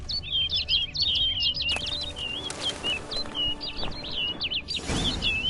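A bird in The Witcher 3: Blood and Wine chirps in quick, bright bursts of song, loud and close, with short pauses between phrases over a low game ambience; no one speaks.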